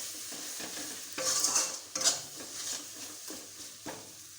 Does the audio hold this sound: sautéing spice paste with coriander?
yes